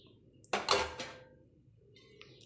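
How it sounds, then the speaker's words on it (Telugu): Washed biryani rice tipped into a pot for an oil-free chicken biryani: a short, loud clattering rush of grains and metal lasting about half a second, then fading into quiet kitchen background. "నేను ఈ రైస్ ఇందులో వేస్తున్నాను"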